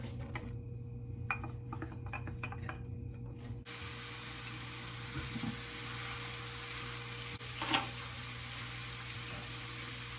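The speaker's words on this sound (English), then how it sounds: "Start with good olive oil. We're going to do the onions." Onions fry in good olive oil for a fresh Italian tomato sauce, a quiet kitchen hush giving way partway through to a steady, close sizzle that continues evenly to the end.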